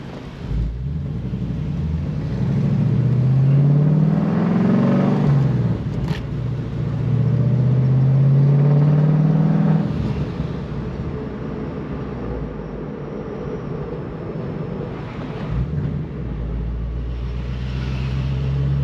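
A 2006 Mustang with a Coyote engine swap, in for a tune, is driven on the road. Its engine drones loud and close, pitch climbing through gears with deep rumbling between pulls.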